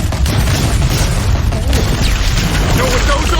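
Shotgun firing explosive slugs in Batman: The Telltale Series, with loud booming blasts over a dense rumbling backdrop of game noise and music.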